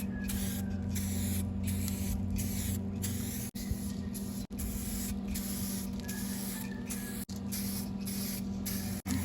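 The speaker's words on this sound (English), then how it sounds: "This has a much wider spray pattern than most spray paint" Spray paint hissing from a can onto a car with a wide spray pattern, long steady bursts broken by a few short pauses, close and continuous over a low background hum.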